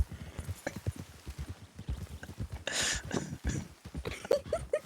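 Horse hooves clip-clop in the Red Dead video game, a series of distinct, evenly spaced hoof strikes at a walking pace, fairly close, with a brief whinny-like tone near the end and no talk.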